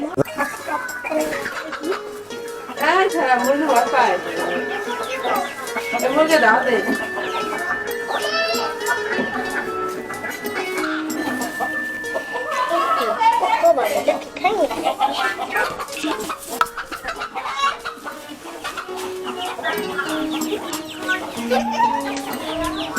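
Chickens cluck repeatedly in an outdoor village yard, steady and moderately close, mixed with other farm sounds while people talk over them.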